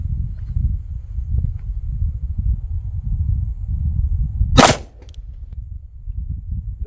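A single sharp gunshot from a Sig V-Crown 357 Sig round fired over a chronograph cracks loud and close, standing out against low, rumbling background noise.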